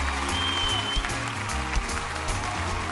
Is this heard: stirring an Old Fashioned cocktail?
no